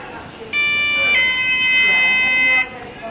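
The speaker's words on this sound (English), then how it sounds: "That's a weird beep." A ThyssenKrupp lift in a shopping centre store gives off a loud, steady electronic beep of stacked pure tones, held for about two seconds and then stopping abruptly, with faint background room noise around it.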